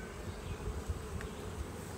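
Honeybees buzzing around an open hive during a beekeeping visit, a close, steady drone with small swells and passing wingbeats, no voices over it.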